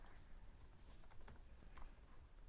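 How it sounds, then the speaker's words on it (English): A password is typed on a laptop keyboard in a quick, faint run of soft key clicks close by. "I'll type in my"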